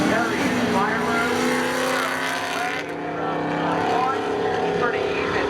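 Drag race cars launching side by side at Seekonk Speedway, including a Camaro, loud engine roar rising in pitch as they accelerate away, with commentary talk over it.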